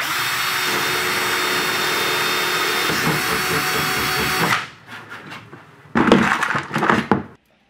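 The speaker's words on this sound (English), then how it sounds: "We're going to rivet anywhere in this area is fine, and then another one." A power tool, likely a rivet gun, runs loudly and steadily while fastening a Sleekline Yamaha installation, then cuts off and gives two shorter bursts with sharp mechanical clatter.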